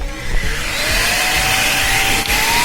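A Heifer cordless stick vacuum cleaner whirs steadily close by on its first power setting, its motor tone rising slightly in pitch as it runs, with faint handling clicks underneath.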